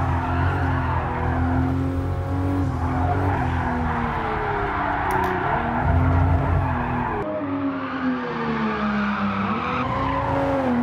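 A new Toyota Supra drifts in GT Sport, its tires squealing and skidding continuously for about eleven seconds over a steady, loud engine drone with wavering pitch.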